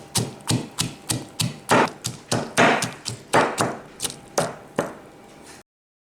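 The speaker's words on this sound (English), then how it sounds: "you get some onion, handful of onion, and then you're gonna grind them too" A handful of onion being ground for a fish seasoning paste, heard as a steady run of about a dozen sharp, evenly spaced knocks, close and distinct, stopping abruptly.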